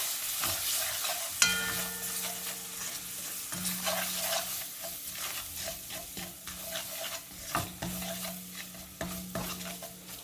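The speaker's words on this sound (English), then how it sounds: "So we're just going to add that in there. And again, give it a stir." Minced garlic is stirred into curry chicken frying in a pan: a steady close sizzle runs throughout, broken by repeated scraping strokes of the spoon, with no talking.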